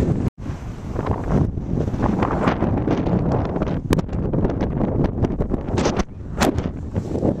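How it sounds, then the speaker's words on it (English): Strong, freezing wind roars across an exposed volcanic mountain trail on the Tongariro Crossing, buffeting the microphone in a loud, continuous rush with brief gusty dips. "Windy."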